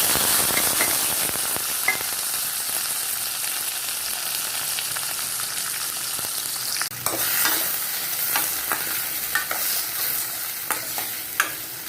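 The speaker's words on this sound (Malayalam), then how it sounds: "ഈ നറുക്കി വെച്ച തക്കാളി, പച്ചമുളക്, ഓനിയൻ എല്ലാം കൂടിയിട്ട് നമുക്ക് നല്ലതുപോലെ വഴറ്റി." Chopped tomato, green chili and onion sauté in a hot pan, giving a continuous loud sizzle broken by scraping stirs and a few sharper clacks of the spoon against the pan.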